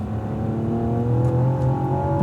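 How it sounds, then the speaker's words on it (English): A Cadillac ATS-V accelerates hard down a straightaway at Fontana Speedway, its engine note climbing steadily in pitch, close and loud, with no talking. "the bridge straightaway is a good opportunity to open it up and go fast"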